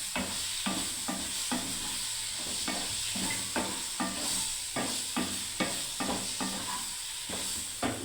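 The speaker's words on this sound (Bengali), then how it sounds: "আবার একটু নাড়তে থাকবো বন্ধুরা" Dal bora fritters stirred into a chana dal curry in a pot, with steady scraping strokes repeating in a regular rhythm over a constant background sizzle, close and moderately loud with no talking.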